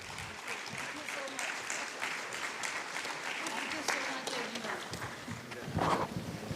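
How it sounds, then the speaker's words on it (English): Audience applause at an award ceremony during a housekeepers' convention, sustained clapping from a crowd over several seconds, with an announcer's voice over it. "Continue the applause,"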